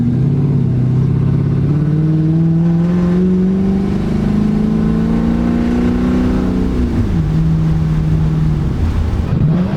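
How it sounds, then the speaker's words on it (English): A Hemi V8 swapped into a body-swapped Dodge car drones loudly and steadily from its exhaust, the pitch climbing slowly as it revs, then dropping sharply and settling before a brief rise at the end. No one speaks. "Look forward and listen to the exhaust."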